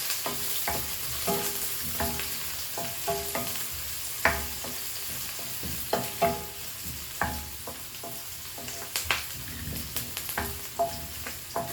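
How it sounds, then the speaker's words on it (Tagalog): Garlic and ginger frying in a pan: a low, continuous sizzle with frequent light scrapes and taps of a spatula stirring, fairly quiet and close, with no voices. "Ang ating bawang. Lutuin muna natin ito"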